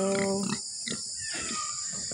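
A pig on a farm gives a short burst of close grunting, followed by quieter snuffling and scattered noises against a steady background hiss.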